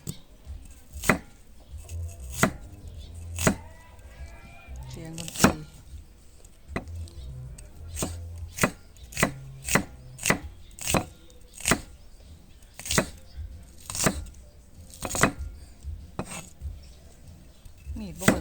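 A thick knife chops food on a board in irregular, sharp knocks, about twenty strikes spaced a second or so apart, close and distinct over a quiet kitchen background.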